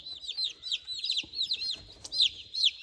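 A homestead chicken gives repeated high, chirpy clucks in quick succession, close and fairly clear over a quiet background.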